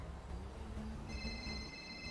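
A mobile phone rings inside Grand Theft Auto V, a faint steady electronic tone starting partway through over a dense low game background, with no talking.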